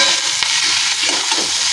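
A vegetarian pumpkin and potato curry is stirred in a pan after coriander and cumin powder go in, giving brief scraping strokes of a spoon over a loud, close sizzle of frying spices.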